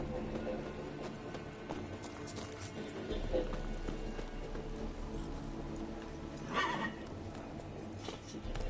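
Horse hooves and a whinny from a horse ridden in the video game Witcher 3, in a game scene with music and a voice talking over the sound. A neigh stands out near the end.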